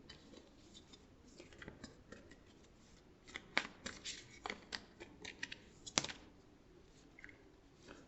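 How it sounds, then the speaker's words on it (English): A new deck of cards is shuffled by hand at close range, with soft riffling and a run of sharp snapping bursts in the second half, and no one speaking. "this is a new deck again. I'm shuffling in front of me."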